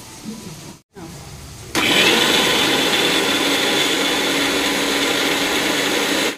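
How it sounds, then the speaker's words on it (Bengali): After a brief pause, a mixer grinder starts blending ginger, garlic, chilli and onion, producing a loud, steady whirring roar that runs close and unbroken to the end. "এই যে মশলার জন্য আদা রসুন লঙ্কা নিয়ে নিয়েছি, আর এখানে পেঁয়াজ আছে। এখন আমি মিক্সি করে নেব।"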